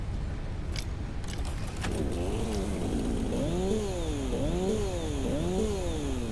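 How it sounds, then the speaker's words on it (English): A chainsaw in the video game Satisfactory, run while fueled with biofuel, revs in repeated rising and falling buzzing sweeps after a brief start, loud and close over a steady low background hum. "let us do what you're not supposed to do and run with a chainsaw"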